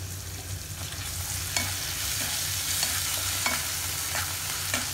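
An oats dish seasoned with black pepper powder and salt being stirred in a pan, with a constant close sizzle and light, irregular spoon scrapes throughout and no voices.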